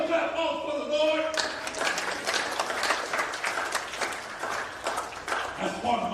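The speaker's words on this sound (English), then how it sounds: "Another clap off for the Lord." A crowd claps together in a dense, continuous burst of applause at a church funeral service, with voices over and around it.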